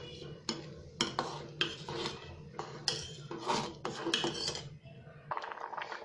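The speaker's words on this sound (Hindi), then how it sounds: "और हम इसे अच्छे से मिक्स कर लेंगे।" A spoon stirs sugar into rice kheer in a metal pot, scraping and clinking in uneven strokes near the mic. A few brief, rough rasps follow toward the end.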